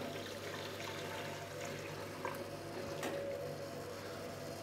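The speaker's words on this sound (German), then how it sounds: "Aber ich fülle auch mal direkt noch mehr Wasser hinterher." Water poured into the tank of a portafilter espresso machine during descaling makes a steady, faint, hissing trickle that runs continuously, with a brief splashy swell partway through.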